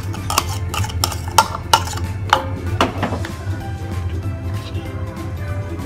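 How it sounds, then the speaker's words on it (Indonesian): Ground garlic and shallots with chilies stirred in a pan for sambal lado, with a spoon clanking and scraping against the metal several times, then a softer continuous stirring. "Aduk bawang putih sama bawang merah yang udah dihaluskan."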